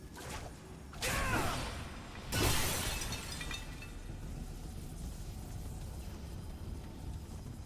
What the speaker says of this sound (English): They do make the pots give a very satisfying shattering noise.